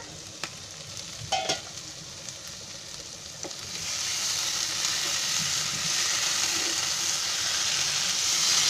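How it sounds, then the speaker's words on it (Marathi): Potatoes sizzle steadily in oil inside a covered pan, a soft broadband crackle that swells louder after a few seconds and then holds, with a couple of light clinks early on and no voices. "मस्त आवाज येतो आहे, चरचरतंय जरा जरा."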